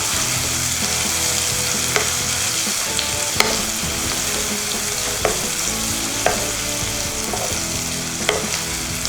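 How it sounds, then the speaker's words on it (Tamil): Onions sauté in a pan for a hotel-style vegetable kurma. A loud, dense, continuous sizzle sounds close up, and a few sharp taps of stirring break through it now and then. No voices are heard. "வெங்காயம் நல்லா வதங்கணும்."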